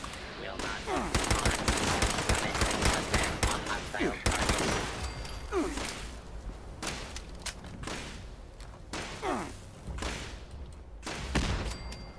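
Gunfire rattles in the video game Fallout 76, rapid bursts of close automatic shots and single cracks over several seconds, loud and dense early, then thinning into scattered volleys, with a voice talking in between.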